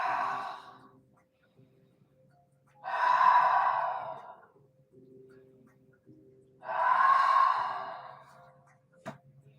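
Deep, slow breathing during a yoga pose: three long, audible exhales spaced a few seconds apart, close and clear, with quiet stillness between them.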